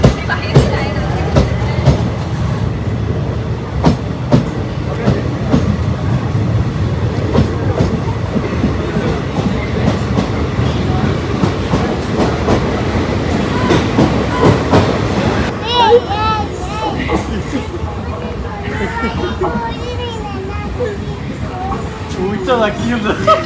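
A passenger train moving along the rails, with a steady rumble and rhythmic clickety-clack of wheels over joints, close and fairly loud, with people talking over it throughout.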